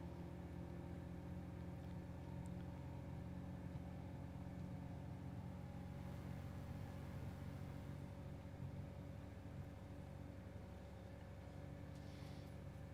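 Race truck number 182 running its engine down the Bonneville salt flats course, a steady loud drone with sustained low harmonics and no break, heard from on board or close by.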